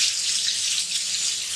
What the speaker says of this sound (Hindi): साथ पानी डालेंगे ताकि टमाटर सही से गल जाए